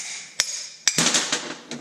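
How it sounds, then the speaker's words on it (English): Sharp hammer blows on metal while freeing a mud mower pulley: four distinct, fairly close strikes at irregular intervals over a steady background hum. "It's hammer time."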